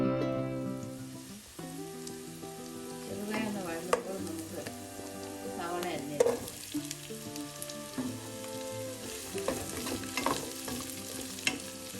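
Chopped ginger, garlic and green chilli sizzle in hot oil for a Kerala-style chicken mappas curry, with repeated close scraping stirs over steady frying and soft music playing in the background.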